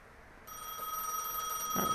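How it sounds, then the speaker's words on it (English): A telephone rings in the video game Gas Station Simulator, a steady electronic tone starting about a quarter of the way in and continuing, moderately loud with faint background noise. "Answer the phone."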